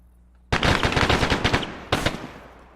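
Covering fire in a military combat video game: a loud burst of rapid machine-gun shots, then a short pause and a second shorter burst, all close and without speech.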